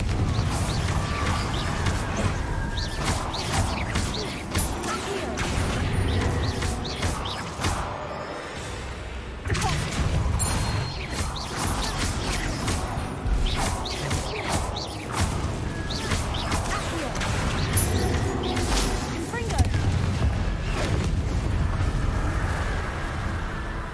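Confringo blasting spells in Hogwarts Legacy erupt in a chain of loud crashing bursts and whooshes over a steady din of battle, with sharp impacts repeating across the stretch and a brief lull midway.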